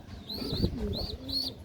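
Racing pigeons and their chicks coo softly, with repeated low throaty calls and a few higher chirps in a steady, close, continuous stretch with no talking.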